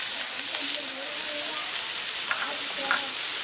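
Two finely chopped onions fry in coconut oil with a loud, dense, continuous sizzle, close and steady, with faint stirring movements and no speech.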